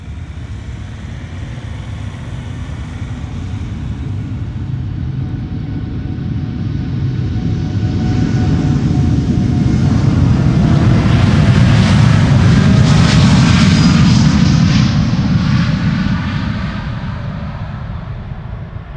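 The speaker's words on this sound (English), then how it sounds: "Boeing 7878 Dreamliner, 9 years old, first flight January 2015." An American Airlines Boeing 787-8 Dreamliner passes at Schiphol with a loud, sustained jet-engine roar that builds gradually, peaks around the middle and slowly fades, with a whining high tone riding over the rumble.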